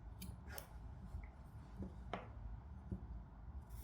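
Scissors snip through crochet yarn at a color change, a few faint, brief cuts spaced irregularly against a quiet room background.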